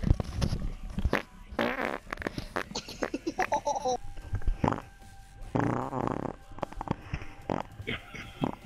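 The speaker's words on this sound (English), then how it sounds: "Uh-oh, I got a fart coming and it's a big one!" Big fart, a string of loud, blubbery bursts recurring across the clip, broken by shouted voices in between.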